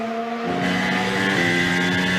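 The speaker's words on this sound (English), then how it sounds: "This is the sound of Sergio Perez up through the gears, powering himself around this track" A Red Bull Formula 1 car driven by Sergio Perez at the Canadian Grand Prix screams up through the gears, a loud, rising engine whine with quick gear-change steps, close and continuous without commentary over it.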